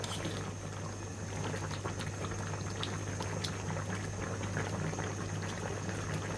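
A drumstick (moringa) and mustard curry boils in an uncovered pot, with a steady, dense bubbling that carries on evenly throughout, close by and alone.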